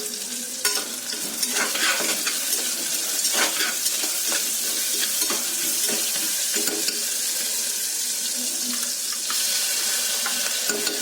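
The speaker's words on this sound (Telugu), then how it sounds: "ఇప్పుడు కొంచెం అల్లం వెల్లుల్లి పేస్ట్ వేసుకుందాం." Ginger garlic paste frying with onions in a pan for vegetable biryani, a steady loud sizzle with stirring scrapes throughout, close up and continuous.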